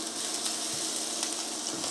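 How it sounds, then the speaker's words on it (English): Ginger, garlic and onion fry in hot oil for lemon chicken, producing a dense, even sizzle with faint crackles, close and steady, with no voices over it. "Now started fry all the spice in there, like ginger and garlic, and then onion"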